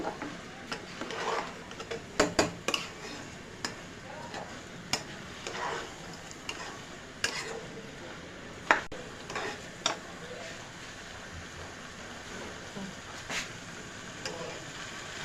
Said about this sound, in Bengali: এখন আমরা এই চালটা এই মশলার সাথে সুন্দরভাবে ভেজে নিব।